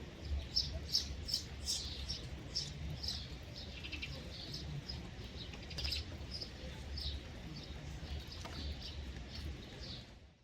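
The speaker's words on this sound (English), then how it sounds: "This is long-tailed shrike, commonly found along the southeastern coast of China." Long-tailed shrike calling from the southeastern Chinese coast, a series of short, bright chirping notes repeated irregularly over a steady low rumble of background noise, moderately near and clearly audible.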